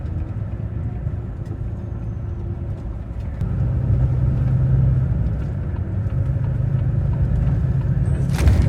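A Volvo car drives along with a low, steady engine rumble heard from inside, growing noticeably louder and fuller partway through, then holding at that level to the end without any talk.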